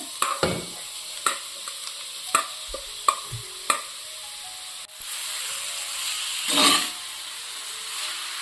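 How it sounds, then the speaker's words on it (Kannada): Marinated prawns frying in ghee in a pan give off a steady close-up sizzle, with sharp utensil scrapes and taps through the first few seconds and a brief louder surge of hissing near the end. "ಹಾಕಿ ಇದನ್ನು ಚೆನ್ನಾಗಿ ಫ್ರೈ ಮಾಡ್ಕೊಳ್ಳಿ."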